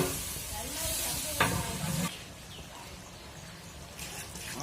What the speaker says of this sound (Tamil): அடி பிடிக்காமல் இருக்க கொஞ்சம் தண்ணி ஊற்றி நல்லா கிளறி.